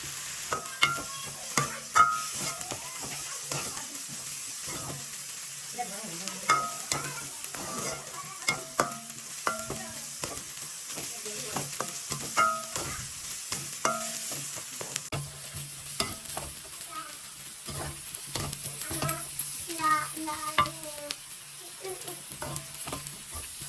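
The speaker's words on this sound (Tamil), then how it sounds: "உடித்து வச்ச உள்ளியையும் போட்டு அந்த உள்ளியையும் சேர்த்து நல்லா கிளறி விடணும் எண்ணெயில் படக்கூடிய மாதிரி நல்லா கிளறி விடணும்" Peeled garlic frying in oil for a Jaffna-style meat curry, stirred with frequent spatula scrapes and clinks over a low steady sizzle, close by, with occasional faint background sounds.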